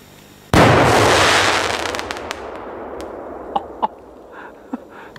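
A large firecracker bursts with one loud, sharp blast that decays slowly, followed by several fainter crackling pops and bangs spread out over the next few seconds outdoors.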